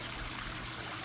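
Water pours and splashes in a continuous, even rush from a backyard pond waterfall pumping 14,000 gallons an hour, spilling into the pond, close and steady.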